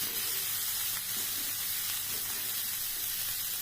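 Boiled banana flower tipped into fried spices in a pan sizzles with a soft, steady hiss that stays even from start to finish, close but fairly quiet, with no talk.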